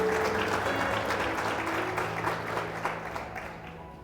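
A church congregation applauds during a sermon, a steady wash of clapping that gradually fades toward the end.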